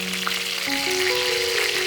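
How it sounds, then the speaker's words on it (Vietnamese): Betel-leaf-wrapped meat rolls (chả lá lốt) fry in hot oil, giving a steady close sizzle with faint stirring, plus a few held tonal notes in the background; no one speaks. "Mình thường chiên kỹ một chút để cho lá lốt chuyển sang màu xanh đậm và 2 đầu thịt xém vàng"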